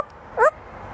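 A parrot imitates a dog with a single short bark, one brief, fairly loud yelp standing alone against quiet room background.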